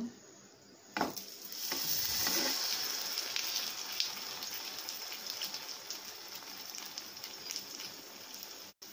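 Semolina and vegetable snack frying in oil in a pan, a steady bright sizzle running throughout with occasional stirring clinks, no voices.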